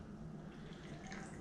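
The rest of a Lucky Light blonde ale, with a little sediment, being poured out in a steady, close liquid rush with no voices.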